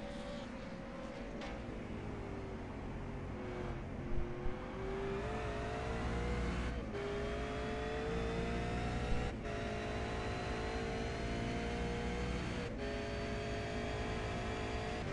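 V8 Supercars lapping Mount Panorama at Bathurst in a racing video game: a continuous loud engine drone with rising and falling revs, repeated gear-shift cuts and overlapping cars.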